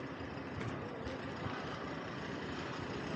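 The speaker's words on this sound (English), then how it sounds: "But here is this huge truck. It's probably like 45 meters long." A huge truck with a trailer about 45 meters long, hauling a generator through Gullmarsplan in Stockholm, rumbles steadily as a dense, continuous low engine and road noise close by.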